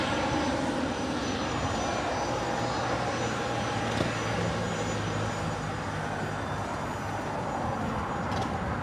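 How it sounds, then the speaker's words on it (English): A Boeing 787-10 Dreamliner jet comes in to land at Los Angeles International Airport, its engines producing a steady, loud, sustained roar with a low drone throughout. "787-10 Dreamliner"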